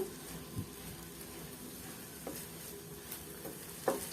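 Ground coconut being stirred into sugar syrup over a low flame, a soft continuous scraping and gentle sizzle with a few small clicks of the spoon against the pan.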